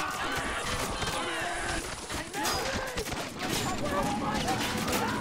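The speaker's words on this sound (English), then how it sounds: "the Japanese machine guns are gonna start firing at him" Japanese machine guns firing during a Marine amphibious assault on a castle in a video game, dense rapid bursts blending into continuous overlapping gunfire with distant battle noise throughout.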